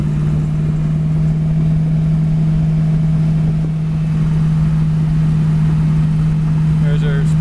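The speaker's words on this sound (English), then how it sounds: "It's a great driving 65 Mustang convertible" A 1965 Ford Mustang convertible cruises down the road near 60 mph, its engine a steady low drone under continuous wind and road noise from inside the car.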